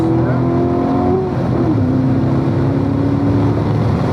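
A race car at an SCCA track session at AutoBahn South drones loud and close at nearly full throttle through a corner, its engine note holding steady, then bending briefly in pitch midway before settling again.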